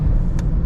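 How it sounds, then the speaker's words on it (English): Nissan Qashqai first-generation 1.6-litre naturally aspirated engine in a heavy crossover, droning steadily from inside the cabin with strong low rumble, loud and continuous. "You need to rev this engine out in order to make power,"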